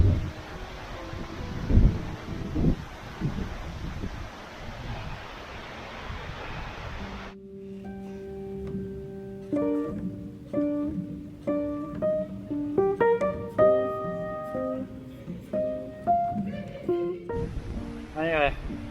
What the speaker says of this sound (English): This wind is getting stronger.